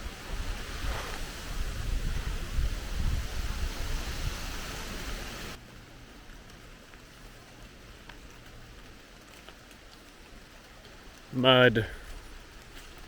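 Rain and strong wind outdoors in muddy Vermont during a stormy spell with falling branches, a steady broadband rush of wind and rain that drops away partway through, with brief speech near the end.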